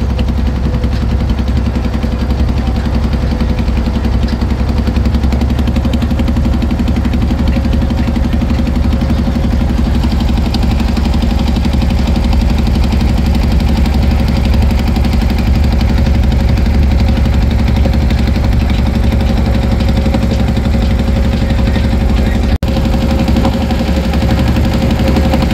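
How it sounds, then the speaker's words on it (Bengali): The passenger launch MB Bogdadia 8, bound for Chandpur, leaves the ghat with a loud, continuous low engine drone and a steady mechanical rumble that runs unbroken for the whole stretch. "চাঁদপুরের উদ্দেশ্যে ছেড়ে যাবে এমবি বোগদাদিয়া 8 লঞ্চটি"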